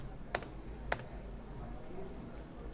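Keys pressed on a computer keyboard: two isolated, faint clicks about half a second apart over a soft steady background hiss.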